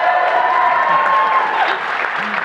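A large audience claps and cheers loudly and steadily, a dense continuous wash of applause with scattered whoops rising above it.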